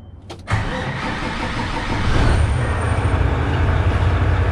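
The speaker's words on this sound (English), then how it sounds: "we're about to start it up for the first time" A diesel truck engine cranks briefly, then catches and settles into a loud, steady rumbling idle that grows slightly fuller after a couple of seconds, close to the microphone with no talk.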